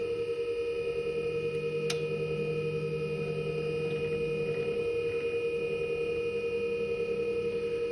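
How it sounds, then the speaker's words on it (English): A Spinshot tennis ball machine rotates continuously with a steady mechanical hum and faint regular ticking while showing an alarm 4 fault, unchanging throughout, broken by one sharp click early on. "the machine will just keep rotating and rotating until you receive an alarm 4"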